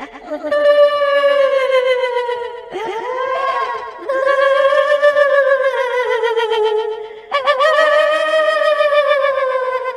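A voice imitates a woman crying with very deep gasping breaths, producing long wavering wails broken by sharp intakes, close and loud with no other sounds.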